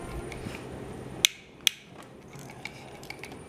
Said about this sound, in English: the next step is to remove 7 Allen head bolts here